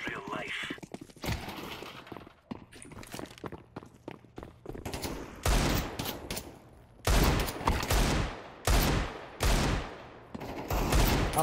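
Gunfire in Counter-Strike 2 during a match against a cheater: loud, sharp bursts of shots arrive in clusters, mixed with footsteps and other game sounds, while a player talks over it.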